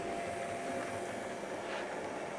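A Hornby model German locomotive runs on its track, giving a steady, close, continuous mechanical whir and rattle with no talk over it.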